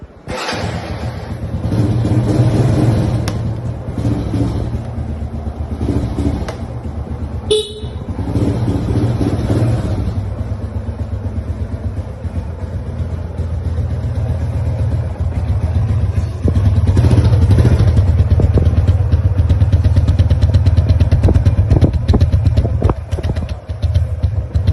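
A road vehicle drives past outdoors, its engine noise building and swelling louder near the end amid traffic sounds and a brief horn-like toot.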